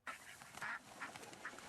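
Several ducks quack in short, bright bursts spread across a brief outdoor moment, the loudest call in the middle, with no talking.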